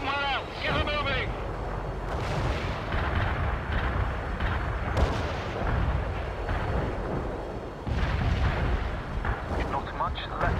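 Artillery barrage in World in Conflict, a continuous roar of heavy booms and rumbling detonations that stays loud throughout, with radio-style voices speaking over it.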